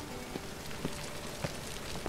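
Steady rainfall in the video game The Witcher 3: Wild Hunt, a soft continuous patter on surfaces with a few slightly louder drops, quiet and even with no talking.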